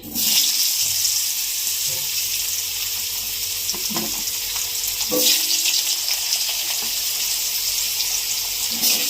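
Steady, dense frying sizzle of potatoes in hot oil runs throughout, with occasional clinks and scrapes of a utensil; no talking.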